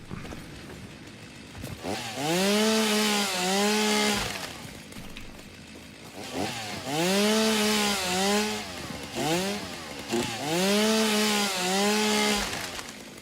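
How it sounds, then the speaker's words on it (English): Three separate revving bursts from a chainsaw felling trees in the video game Satisfactory, each climbing to a loud, sustained buzzing whine and then cutting off, with short pauses between them and no talking. "And also check out the chainsaw."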